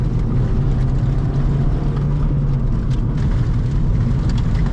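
Continuous loud, gritty rumble and hiss from an 8th-generation Honda Civic Si on newly fitted RPF1 wheels, with a harsh tire-rubbing, scraping texture underneath that never lets up.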